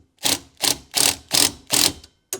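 A socket wrench ratchets on a bolt of a diesel heater being fitted in a vardo gypsy wagon: five loud, close bursts of clicking at an even pace, then a brief sixth burst after a pause, with no talk.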